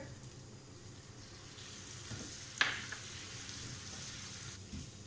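Pizza filling sizzles steadily in a hot pan just after soy sauce goes in, a soft continuous frying hiss with a brief sharper crackle midway.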